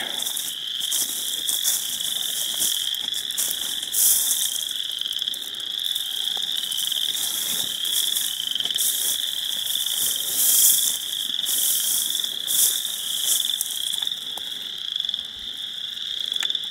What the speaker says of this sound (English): As I approach this swamp, you'll hear the frogs.